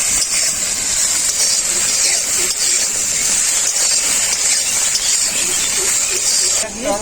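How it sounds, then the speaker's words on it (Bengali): Okra lightly salted and frying in hot oil in a pan, giving a loud, steady sizzle and hiss that runs unbroken from start to finish. "ভেড়িগুলোকে হালকা করে একটু ভেজে নেব।"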